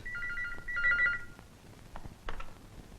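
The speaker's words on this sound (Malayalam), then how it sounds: "ഫോൺ എടുക്ക." A telephone rings with two bursts of bright, warbling electronic tones, followed by a few soft knocks and handling sounds in a quiet room.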